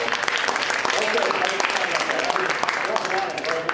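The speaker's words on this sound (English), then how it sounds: "give him a little round of applause" A theater audience claps for a volunteer called up from the fourth row, a steady wash of applause with some talk and voices mixed in throughout.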